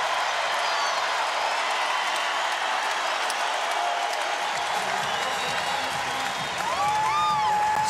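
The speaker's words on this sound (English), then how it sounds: "The crowd tells the story." Sold-out basketball arena crowd during a timeout in a Gonzaga vs Utah game, a dense continuous roar of cheering and applause with whistling whoops rising near the end.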